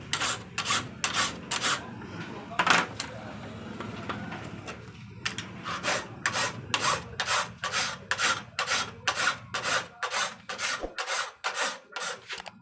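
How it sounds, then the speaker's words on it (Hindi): A rasp file rubs back and forth on a roller used in namda felt work, giving loud, close, regular scraping strokes that quicken into a steady rhythm. "रेती के साथ इसको रगड़ लेंगे पहले"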